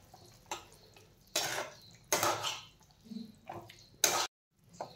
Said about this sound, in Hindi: त्यामध्ये लगोलग आपण घालूयात शेंगदाणे आणि छान याला मिक्स करून घेऊयात